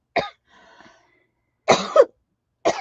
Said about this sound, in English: I was not coughing at all till I came out here.